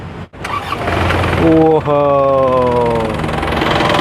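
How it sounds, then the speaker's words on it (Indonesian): A 2019 Isuzu Panther pickup's conventional diesel engine cranks briefly, then catches and roars to life, settling into a loud, rough idle close by. "Ini dia karakter mesin diesel konvensional yang seperti ini. Berisik, kasar"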